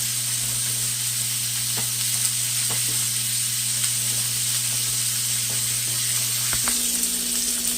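A ribeye steak sizzles steadily in a hot pan, a constant close frying hiss running without pause, with a few faint clicks and a low hum in the background.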